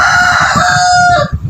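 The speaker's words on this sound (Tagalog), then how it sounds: "Pag ganyan lang niya, pagtitilaok niya." A gamecock being conditioned for fighting gives one loud, close crow that rises and holds for over a second before breaking off, heard alone.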